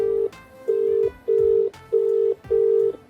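An outgoing phone call rings back in a repeating pattern, five even electronic tones of about half a second each separated by short gaps, clear and loud with no voices.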